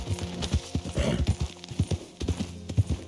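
Rapid hooves clatter in a quick galloping rhythm, close and steady, with a brief horse whinny in the middle, in the video game Red Dead Redemption 2.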